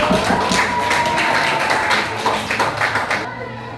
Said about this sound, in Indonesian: Oke, tepuk tangan untuk Hairul.